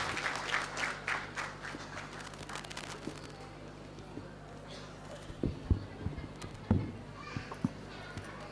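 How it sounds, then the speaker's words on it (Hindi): An audience claps at an Agrasen Jayanti 2023 gathering, with a crowd of many hands patting fairly quietly at the start and then thinning into scattered taps and knocks, while a low hum sits underneath. "तालियां बजती रहें।"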